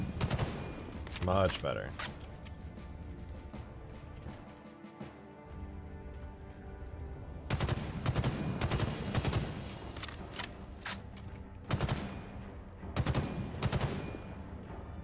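A battle rifle in a modded Halo MCC game fires in clipped bursts that rattle in clusters, mostly over the second half, with game ambience underneath and a brief spoken remark.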